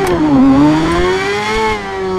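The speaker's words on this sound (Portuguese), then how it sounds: "essa moto berra muito" A Yamaha XJ6 motorcycle engine in GTA V revs loudly and close, its pitch dipping then climbing in a sustained growl with no voices.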